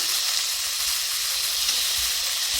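Beef pieces searing in a hot pan during meal prep, a steady, close, even sizzle with no voices and little variation throughout.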